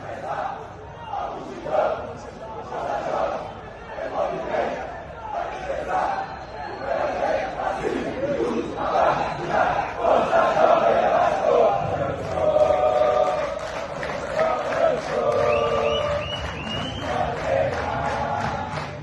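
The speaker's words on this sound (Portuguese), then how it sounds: "a torcida vindo, apoiando, como sempre" Vasco football supporters chanting and cheering at a stadium after a defeat, a loud, rolling crowd roar with rising sung phrases, fairly distant and continuous, with someone speaking over it.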